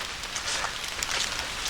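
Rain patters steadily on a campsite canopy covering a picnic table at French Creek State Park in Pennsylvania. The hiss is close and fairly soft, with scattered louder drops.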